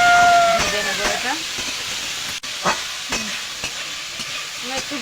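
Star fruit with a little salt and turmeric frying in a pan for chutney, a close sizzle under repeated scraping strokes of a spatula stirring, with a faint voice at moments.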